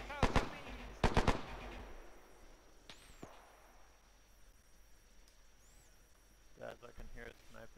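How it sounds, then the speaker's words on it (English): Gunfire in a World War II combat video game: two sharp, loud bursts of shots early, then a quieter stretch of distant ambience with faint whistling tones, and more sharp reports near the end. "I can hear a sniper far southeast."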